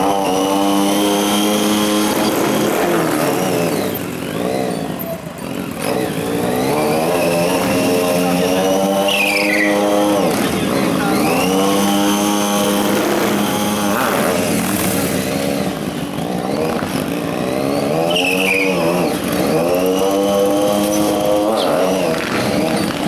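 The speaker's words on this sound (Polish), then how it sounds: "Czeka nas tutaj mnóstwo atrakcji, między innymi pokaz stuntu motocyklowego." Motorcycle engines rev loudly and continuously at a stunt show, rising and falling in pitch as the riders work the throttle. No one speaks.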